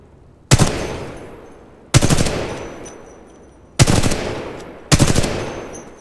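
Four loud, punchy gunshots from a weapon in Titanfall 2 on Xbox One ring out at uneven intervals, each a sharp crack followed by a decaying echoing tail.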